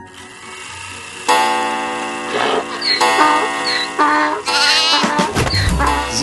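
A donkey in a Nativity scene brays loudly and close in a string of harsh, honking calls broken by short gaps, with a faint ticking clock under it and no one speaking.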